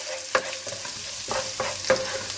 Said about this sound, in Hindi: थोड़ी देर इसको भून लें कि इसकी अच्छी खुशबू आने लग जाए।